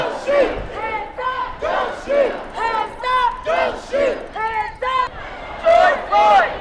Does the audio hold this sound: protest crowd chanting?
yes